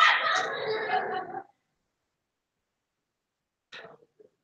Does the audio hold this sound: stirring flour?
no